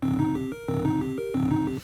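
A short, looping chiptune drum pattern from a Game Boy Advance 16-step sequencer: buzzy square-wave tones pulse in a steady repeating rhythm, with brief gaps between bars.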